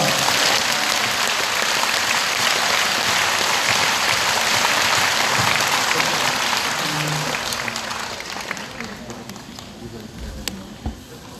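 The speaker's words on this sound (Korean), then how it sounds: "박수로 주님께 영광 돌립니다" A church congregation at a prayer retreat gathering breaks into loud, dense applause that holds steady, then thins and fades over the final few seconds as scattered claps remain.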